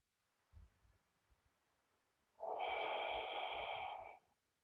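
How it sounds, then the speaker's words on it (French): Deep, steady breathing during a meridian stretching session: one long, loud airy exhalation lasting over a second, preceded by a few soft low puffs, close up in a quiet room. "Respiration profonde et avec l'étirement."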